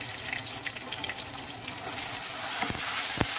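Ground masala paste for patwadi gravy fries in hot oil, a close, continuous sizzle with a few crackles and scraping stirs toward the end.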